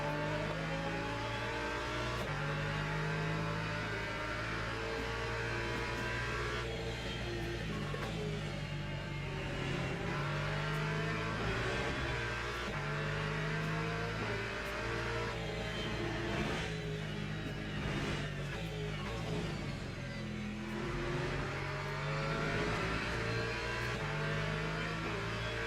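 A Corvette race car engine in a racing video game at Imola, a continuous loud drone that climbs and drops with repeated upshifts and downshifts, steady and close throughout.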